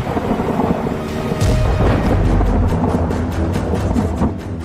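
Heavy monsoon rain pours steadily and loudly while a deep rolling clap of thunder swells partway through and then slowly fades under the downpour.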